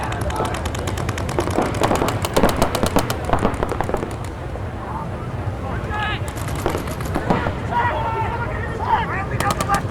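Paintball markers fire in rapid bursts during a tournament match, a dense crackling barrage heavy for the first four seconds, then sporadic pops with crowd noise and commentary talk throughout.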